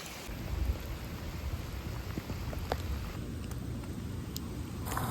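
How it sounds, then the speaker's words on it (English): Heavy rain pours down steadily around a runner outdoors during a long training run, a dense broadband wash lasting throughout with brief louder gusts and a low rumble underneath; no voices. "Oh, just started raining harder."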